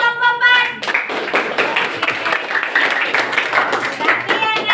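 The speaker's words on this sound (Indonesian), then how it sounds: "Beri aplaus untuk kelompok" A classroom group receives steady clapping, a dense patter of many hands lasting several seconds, with voices talking over it.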